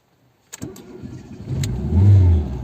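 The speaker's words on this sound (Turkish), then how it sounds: "Baştan aracı çalıştırıyoruz." A car engine with a manual choke cranks briefly, catches, and rises into a loud, steady run that swells as revs climb before settling, close and alone.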